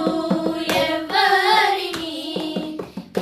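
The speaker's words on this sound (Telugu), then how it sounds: "అందరు చప్పట్లు కొట్టి పాడదాం" A church congregation claps in steady rhythm during a live worship song, the sharp hand claps landing on the beat over sung melody and accompanying music.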